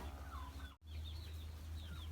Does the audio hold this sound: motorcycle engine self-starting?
no